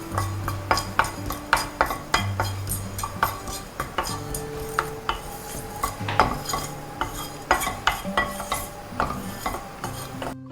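A metal spoon scrapes and clinks as whole cumin seeds are stirred in a dry pan with no oil, giving repeated sharp knocks with brief tonal rings and a faint sizzle beneath.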